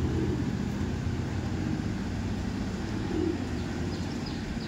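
Pigeons in a loft keep up soft, low cooing over a steady murmur of ambient noise, faint and continuous without clear breaks.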